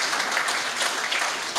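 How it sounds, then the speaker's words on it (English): Audience applause at a regional sports awards night as presenters head to the stage, a short, even spell of many hands clapping with no voices. "give them a round of applause"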